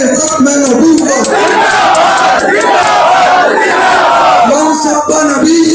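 Large crowd at a religious gathering chanting a slogan loudly in unison, a dense, rhythmic roar of many voices that rises and falls in close, continuous waves.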